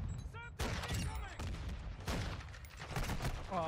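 Rapid gunfire from sniper rifles in Modern Warfare 2, with several sharp loud shots and booming reports over a dense, busy battle din, with some faint talk mixed in.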